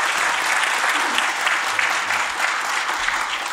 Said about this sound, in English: I think Jesse deserves an incredible round of applause.